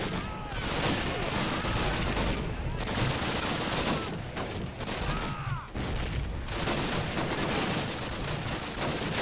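Gunfire from the World War II shooter Call of Duty: United Offensive, heard as dense, continuous rifle and machine-gun bursts with distant explosions layered through a busy battle mix, steady and fairly loud throughout.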